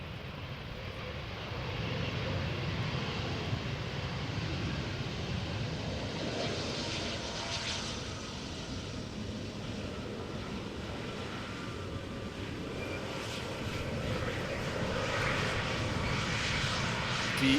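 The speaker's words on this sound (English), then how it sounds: "the Laissez-faire Chocolaterie Embraer 190, arrived from Basel" An Embraer 190 jet airliner arriving at Amsterdam Schiphol Airport from Basel, its engines a steady broadband roar that swells and holds for the whole stretch with no talk over it.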